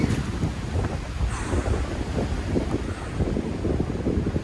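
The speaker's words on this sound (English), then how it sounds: "Oh wow, that wind is icy." Icy wind blows steadily outdoors on a November alpine walk, a loud continuous rushing roar buffeting the microphone, with no talking.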